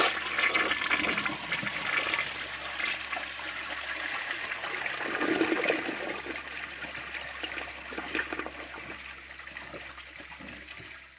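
A 1995 Eljer Savoy toilet flushes during a dirt test, sending water rushing loudly into the bowl. The rush settles into a long, gurgling siphon and trickle that tapers off.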